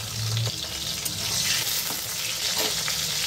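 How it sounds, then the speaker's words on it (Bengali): Pointed gourds fry in hot oil, a loud, continuous sizzle and crackle with a brief low clatter at the start, close and steady without speech. "তেলটা ভালো করে গরম হয়ে গেছে। এবার দিয়ে দেবো পটলগুলো।"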